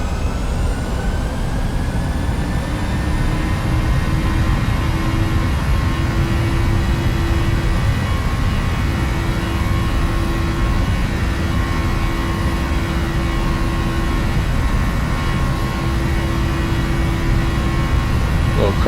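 Boeing 737 jet engines spool up for takeoff in a flight simulator, a loud, steady roar with rising whining tones that climb and hold throughout, continuous and alone.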